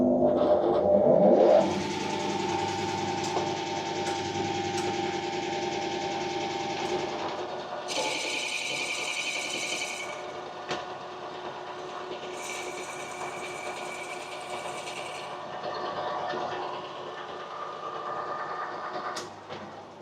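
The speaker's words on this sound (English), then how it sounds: "mounted in the lathe, ready to bore this hole to size" A lathe bores out the centre of a plasma-cut steel disc held in a small jig, giving a steady machine whine and hum with shifting metallic cutting tones and bursts of high chatter.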